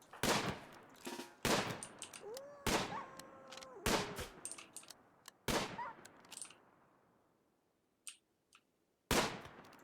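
Gunfire in the video game Rimworld, several loud sharp shots in irregular bursts over about ten seconds, with a short quiet gap before the final shot.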